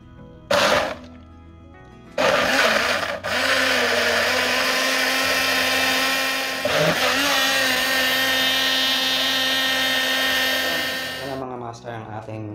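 A mini personal blender whirs through a pineapple, honey and water smoothie: two short bursts, then a loud sustained motor whine with a steady hum for several seconds, a brief dip midway, cutting off near the end.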